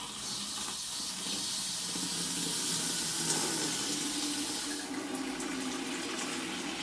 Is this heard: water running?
yes